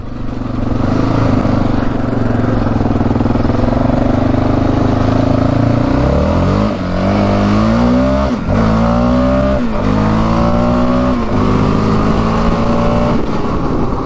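Yamaha Raptor 700 four-stroke quad engine at full throttle during a top speed run, a loud continuous drone that climbs in pitch through several upshifts, each gear change dipping briefly before rising again.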